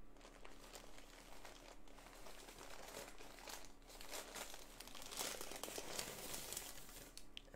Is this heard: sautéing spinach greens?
no